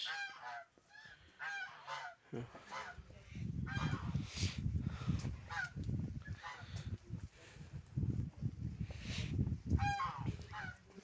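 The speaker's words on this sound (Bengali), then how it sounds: "দেখতে পাচ্ছেন রাজহাঁস।" Geese honk repeatedly nearby at a river-island homestead in Bangladesh, their loud nasal calls coming in uneven bursts over a low rumbling background.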